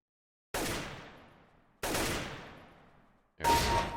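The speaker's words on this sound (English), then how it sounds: "Just shoot them as they come." Three loud gunshots ring out at pop-up targets in a video game, each a sharp crack with a long decaying echo, spaced about a second and a half apart.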